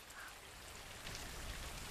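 Rain falls in a cabin scene from the 2013 unrated Evil Dead horror film, a faint, steady hiss of drops with no talk over it.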